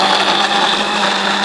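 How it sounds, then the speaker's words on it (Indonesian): A kitchen blender grinds garlic, galangal, ginger, turmeric and small chilies into a Balinese spice paste, a loud, steady, close whirring roar that runs unbroken with no talk. "Biarkan dia di blender sampai lembut"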